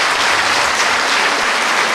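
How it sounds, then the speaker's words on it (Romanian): Steady, dense applause from a concert audience in Satu Mare, loud and continuous for the whole moment with no voices on top. "Aplauze pentru dumneavoastră care sunteți"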